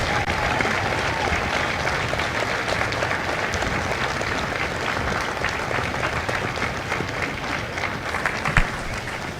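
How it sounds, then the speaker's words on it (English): Sustained crowd applause at a Marine recruit graduation at MCRD San Diego, a broad even roar of many hands lasting several seconds, with faint crowd murmur underneath. "Ladies and gentlemen, a round of applause for their dedicated service to Corps and country."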